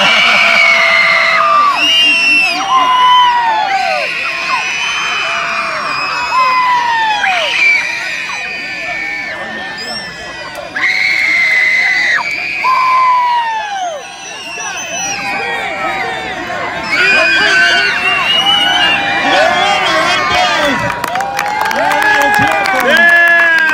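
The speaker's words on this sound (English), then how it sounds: "All right, we want to hear the loudest kid scream." Kids screaming and a crowd cheering at an outdoor RC car event, with shrill, rising and falling shrieks and whoops in loud waves, broken by brief lulls and then building again, mixed with general crowd noise.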